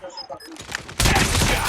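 Rapid burst of gunfire in a shooting video game, a dense loud volley starting abruptly midway after quieter game sounds and a brief voice.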